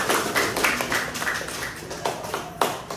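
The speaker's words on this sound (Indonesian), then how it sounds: "Tepuk tangan dulu," Brief round of applause from students in a classroom, a few close, uneven claps over steady room noise.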